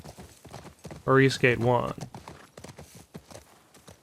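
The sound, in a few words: horse hooves clip-clopping in video game The Last of Us Part II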